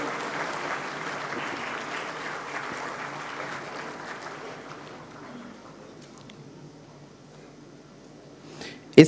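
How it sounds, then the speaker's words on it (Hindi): Applause from the audience at an Arya Pratinidhi Sabha gathering in Jammu and Kashmir, a broad clapping that tapers off after about five seconds, ending in a brief bump. "जोरदार तालियों से"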